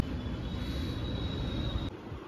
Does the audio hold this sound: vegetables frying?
no